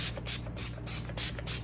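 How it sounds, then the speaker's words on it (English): Makeup setting spray misted onto a face, several short pumped bursts in a steady rhythm, close and fairly quiet over a low room hum, with no talking. "My setting spray, I'm just going to spray the face, do a test spray, and do it from the distance, and do 3 sprays."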